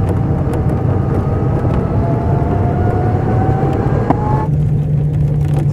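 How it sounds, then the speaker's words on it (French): A Shell Eco-Marathon vehicle accelerates, its steady motor drone rising slowly in pitch under loud road and wind rumble before easing off near the end, with no talking. "Je réaccélère pour pas trop le faire s'endormir."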